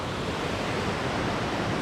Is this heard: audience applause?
no